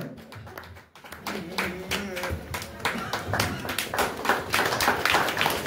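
Clapping at a village Dussehra lottery draw in Pachral, with rapid overlapping claps from a crowd rising and filling the room while a voice speaks over a public address.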